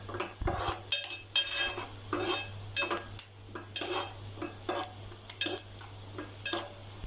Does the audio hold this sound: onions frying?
yes